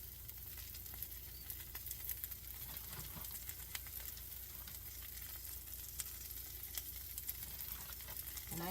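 Overstuffed pepperoni omelette frying in a pan on low heat, a soft, even sizzle with fine crackling pops throughout, fairly faint and close, with no voices.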